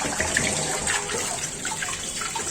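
Tap water runs steadily as a bowl is rinsed in a kitchen sink, a close, continuous splashing gush with small clinks and splatters throughout.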